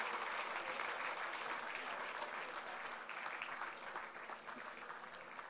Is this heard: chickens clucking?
no